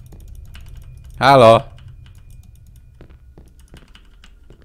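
Computer keyboard typing during a video game, soft quiet key clicks scattered across the clip, with one short loud shout breaking in near the start.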